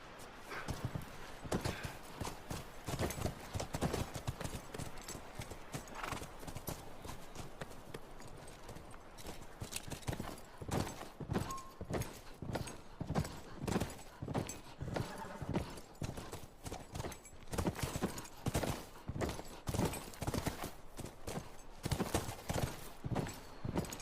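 Horse hooves clip-clop steadily in The Last of Us video game, a dense run of crisp, close hoof strikes at a walking pace that carries on without a break.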